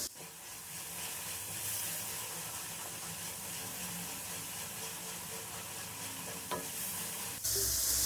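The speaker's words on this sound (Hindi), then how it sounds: "मसाले को हम बहुत अच्छे से भूनेंगे" Masala being fried and stirred in oil for dal tadka, a continuous close sizzle with steady hissing and occasional scrapes of the spoon, growing louder near the end, with no talking.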